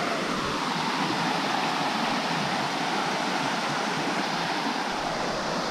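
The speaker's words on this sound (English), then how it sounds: "Ah, the sound of running water sounds so good right now." Running water in a creek rushes steadily as a dense, even broadband wash, loud and continuous throughout with no voices.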